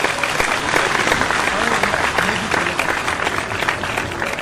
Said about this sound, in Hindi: जोरदार तालियां उमेश चतुर्वेदी के लिए।